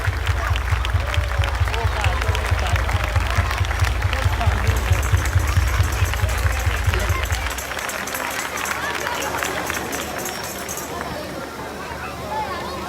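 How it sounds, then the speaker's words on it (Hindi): Loud crowd applause at a church revival festival, with steady clapping and cheering that fades a little partway through, while a voice speaks over it. "जोरदार तालियां बजाएंगे खुदा के खादमों के लिए"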